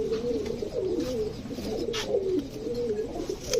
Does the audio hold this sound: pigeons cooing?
yes